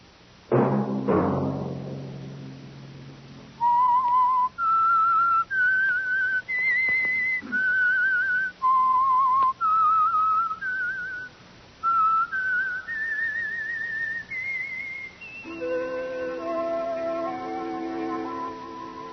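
A lone whistler carries the theme tune of the radio mystery show The Whistler, a clear, close melody of sustained rising and falling notes in steady phrases, giving way to an orchestral chord at the end.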